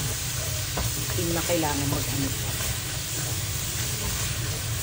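Minced garlic sizzles steadily in hot salad oil in a pan, a dense continuous frying hiss with faint stirring clatter, close and loud, with a brief voice speaking over it.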